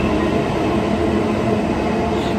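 Metro train rumbling steadily at a station platform, a loud continuous roar of wheels and motor with a constant high hiss, no pauses over the short stretch.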